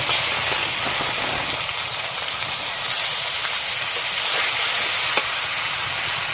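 Mustard and green chili paste, with turmeric and Kashmiri chili powder, frying in hot oil for a vegetarian kakrol (spiny gourd) dish, giving a steady, close sizzle and crackle that runs continuously without talk.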